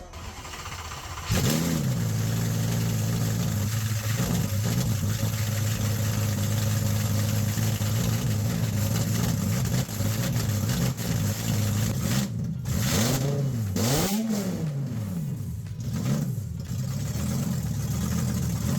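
A loud car engine idles roughly, then revs up and down several times in rising and falling bursts, raw and close straight out of open headers with no muffling.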